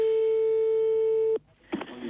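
A steady electronic telephone line tone holds for over a second, then cuts off abruptly while a French caller is put on hold, followed by brief clicks and faint line noise.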